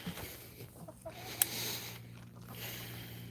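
Hens cluck in a chicken coop, scattered soft calls over a steady low hum and rustling, with one sharp brief knock partway through.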